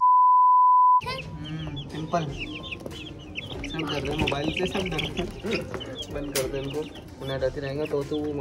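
Chicks cluck and peep steadily at close range after a short electronic tone, their busy chirping overlapping with a person talking throughout.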